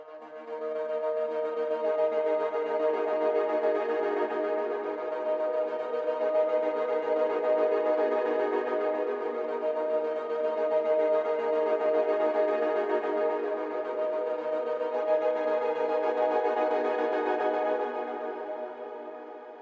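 Sustained pulsing synth lead from the Spitfire eDNA Earth library, a steady rhythmic throb that swells gently and fades out at the end, heard alone with no voices.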